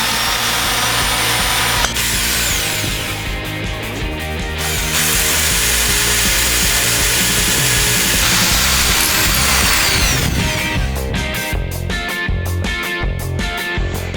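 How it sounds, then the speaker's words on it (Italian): An electric power drill with a 6 mm bit bores holes into a railing while an awning is being installed. The motor whines continuously, its pitch and load shifting as the bit bites, and it sounds loud and close with no talk. "I fori con la punta piccola li ho fatti, ora metto la punta da 6 mm"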